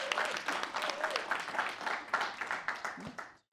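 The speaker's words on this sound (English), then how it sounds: "please give a loud round of applause to our first speaker, Lauren Hobbs." Audience applause for the first speaker at a talk, a steady wash of clapping from a crowd lasting a few seconds before fading out, with some faint voices mixed in.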